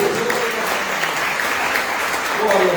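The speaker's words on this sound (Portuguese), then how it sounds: "Dê uma linda salva de palmas para Jesus." A church congregation claps together, loud and continuous applause from many people throughout, with voices mixed in underneath.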